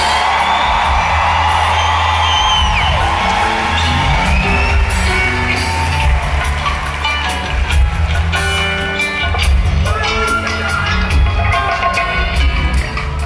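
Concert crowd at the San Diego Civic Center applauding and cheering for a performer, loud whoops and shouts over clapping while band music and bass thumps play underneath.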